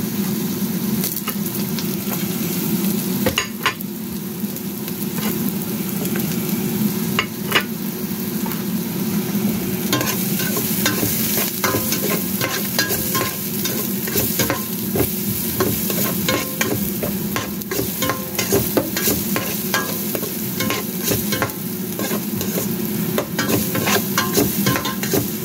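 Garlic and onion fry in a pan, a loud continuous sizzle runs throughout with frequent clicks and scrapes of stirring, and no one speaks.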